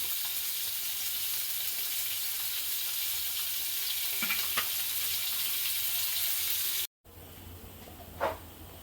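Onion and chili sizzle and fry in a pan in a village kitchen, a steady broad hiss running throughout with a couple of brief stirring clinks, after a momentary cut to silence.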